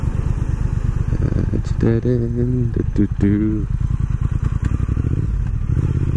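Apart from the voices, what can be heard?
2019 Triumph Speed Twin motorcycle riding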